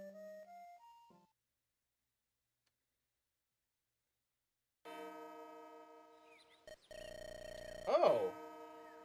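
A bell in Fire Emblem Echoes rings with sustained tonal peals, following a short rising chime and a silent gap, then clanging louder near the end.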